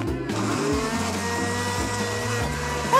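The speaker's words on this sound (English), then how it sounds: "I'll put it in the blender." Kitchen blender whirring through banana, kiwi and raspberries, a loud steady motor drone with shifting pitch that starts abruptly and runs throughout without any talking.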